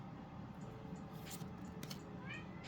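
A cat meows softly a few times, faint and somewhat distant against a quiet indoor background, including a rising meow near the end; no one speaks.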